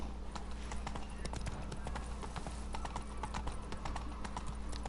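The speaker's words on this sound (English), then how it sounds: "Whoa there, Roach" Horse hooves clip-clop steadily at a walk in The Witcher 3: Blood and Wine, the rhythmic hoofbeats continuous and fairly close over a low ambient game bed.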